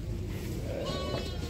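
Young lambs, two females and a male, bleat at an outdoor livestock bazaar in Taraz, a steady close bleating over a continuous murmur of market noise.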